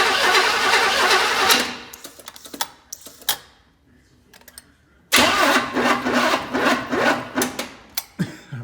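Engine of a 1984 Chevy Blazer cranking over, loud rhythmic starter churning close by, stopping for a few seconds with scattered clanks, then cranking again in repeated pulses.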